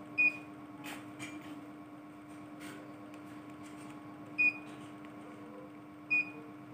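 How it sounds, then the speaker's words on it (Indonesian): Three short electronic beeps from the buttons of a large Arduino digital prayer-time clock, sharp and clear, spaced several seconds apart over a steady low hum, with no voices. "Untuk keluar tombol lagi, bunyi beepnya sedikit lebih panjang."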